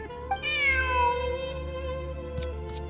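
A cat in the video game Genshin Impact lets out a single drawn-out meow, clear and close, with faint clicks near the end and no talking.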